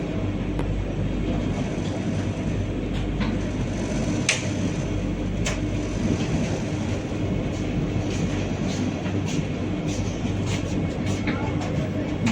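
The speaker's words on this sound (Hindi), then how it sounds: "तो पूरे शार्प 5:50 को हम लोगों का ट्रेन चेन्नई सेंट्रल से रवाना हो रही है।" The Chennai–Mysuru Vande Bharat Express pulls out of Chennai Central, a steady rumble of the carriage with faint rail clicks and occasional creaks heard from inside, continuous and moderately loud.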